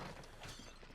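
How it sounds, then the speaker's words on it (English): Wooden barrels smashed apart in Baldur's Gate: Dark Alliance, a steady rough crunch of cracking and shattering filling a short second, no talk. "Just smashing them barrels"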